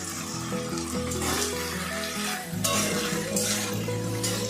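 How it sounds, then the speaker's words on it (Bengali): Fried prawns and taro stolons are stirred in a sizzling pan, with steady frying hiss under repeated scraping and clattering of a spatula against the metal, close by and continuous. "চিংড়িটা লতির সঙ্গে ভালো করে মিশিয়ে নেব।"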